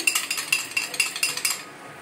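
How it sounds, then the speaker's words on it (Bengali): An egg being beaten briskly in a bowl for chicken stew: about nine quick, evenly spaced clinking whisks, close and clear, fading at the end. "একটা ডিমকে ফেটিয়ে নিয়ে"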